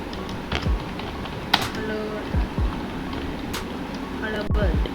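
Fingers tap out code on a computer keyboard in scattered clicks and short bursts, while someone talks over the typing.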